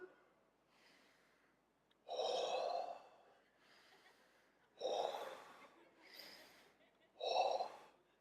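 Three forceful breath bursts, loud gasping exhales spaced a few seconds apart, with quieter breathing between them, as a person performs a deep sumo-wrestler-style breathing exercise.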